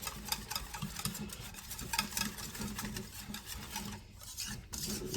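Cornstick batter being whisked in a bowl, a steady, rapid scraping and stirring texture that runs quietly and continuously throughout, with no talking.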